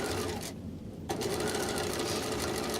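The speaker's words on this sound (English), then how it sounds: "I did start, and I will end with a back stitch. This is not a stay stitch line, it's a structural line of sewing." A sewing machine back stitching a structural seam on a garment placket: a close, fast mechanical whir that pauses for about half a second and then runs on steadily.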